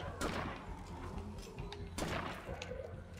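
Gunfire in the zombie survival game State of Decay, a few sharp broadband shots with one strong burst near the start and another around two seconds in, set against a dense game soundscape with faint speech.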